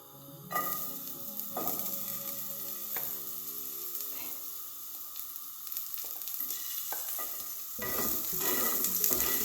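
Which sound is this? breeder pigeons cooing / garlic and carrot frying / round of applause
garlic and carrot frying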